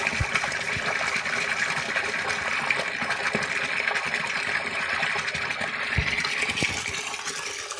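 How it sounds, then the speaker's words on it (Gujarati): Water gushing from a 5 HP submersible borewell pump drawing from 170 feet, a loud, steady rushing splash with continuous turbulent flow heard close by. "एक 170 फूटे 5 HP ની મોટર ચાલે છે, એનું પાણી છે"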